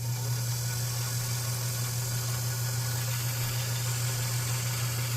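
A White Zigzag sewing machine winds a bobbin with a steady, continuous motor hum and an even mechanical whir that holds at a constant level throughout, with no talking.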